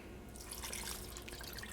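Coconut milk is poured into a pot of lamb vindaloo curry, a soft continuous liquid glug and splash heard close up and fairly quiet, lasting under two seconds.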